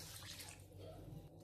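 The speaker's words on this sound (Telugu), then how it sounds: "ఇందులో నీళ్లు వేసుకోవాలి." Water splashes faintly into a pot of washed rice and moong dal (pesarapappu) being soaked for pulagam, a soft continuous pouring gurgle heard close but quietly, with no talk.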